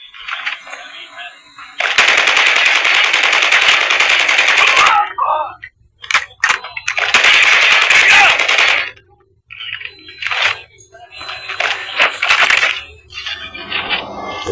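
Sustained bursts of automatic gunfire from the Call of Duty video game, loud and dense, in several long volleys separated by short gaps, with brief speech between bursts.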